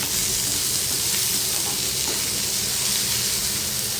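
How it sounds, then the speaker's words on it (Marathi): Dried prawns and finely chopped raw mango sautéing in a pan, giving a loud, steady, close sizzle and hiss that runs without a break and carries faint stirring scrapes. "आणि बारीक कट केलेली कैरी ती पण त्याच्यामध्ये घालायची आहे आणि हे सगळं आपण परतून घेऊया"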